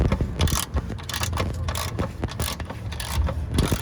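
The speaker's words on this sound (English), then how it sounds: "the passenger side, get this main bolt out." Wrench loosening a main bolt on a five-year-old fully adjustable Ichiba rear camber kit on a car's passenger side, a series of close metallic scrapes and clicking turns with no voices.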